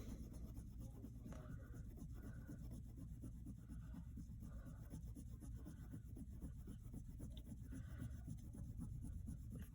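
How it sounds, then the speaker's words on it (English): A black crayon is dragged over paper with heavy pressure, making a faint, continuous scratchy rubbing that goes on without a break and without any voices. "I'm going to go over it with that heavy pressure like we talked about"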